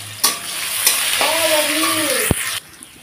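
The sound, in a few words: chopped garlic frying and being stirred in a pan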